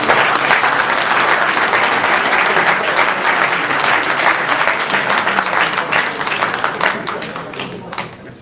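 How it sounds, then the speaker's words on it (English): A crowd at a live political event in Germany claps loudly and steadily for over eight seconds. The dense applause eases off slightly toward the end. "Can we clap for that,"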